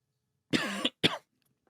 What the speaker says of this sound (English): I was gonna finish my point there, but I coughed.